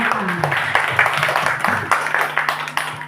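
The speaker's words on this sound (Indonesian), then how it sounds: "kita berikan dulu tepuk tangan kepada Mem Yeti Mayuni Simarmata" A seated group applauds at a teachers' learning session, close, uneven clapping with distinct hand claps, while a low murmur of voices runs underneath.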